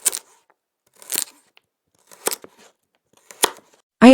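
A knife chops food in four separate strokes, spaced about a second apart, each a sharp close thud with quiet gaps between.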